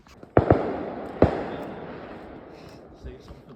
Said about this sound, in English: No, there's some fireworks going on.